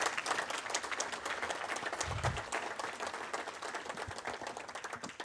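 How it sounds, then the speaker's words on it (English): Sustained audience applause from a room of attendees at a First Nations carbon summit, a dense steady clapping that holds at even loudness for several seconds with no voices standing out. "maybe we can give them a round of applause"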